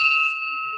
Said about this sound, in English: I want them to hear the bell.